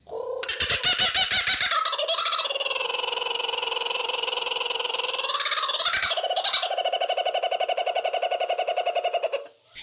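Loud, sustained bird calls with a warbling, gobbling quality, repeated in long rolling bursts close to the microphone.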